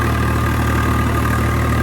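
A Swaraj 855 tractor engine, stock and unmodified, idles steadily at close range, a low, even rumble with a constant throb.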